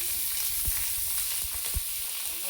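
Pointed gourd pieces fry in hot oil in a home kitchen, a steady bed of sizzling broken by several sharp spattering pops.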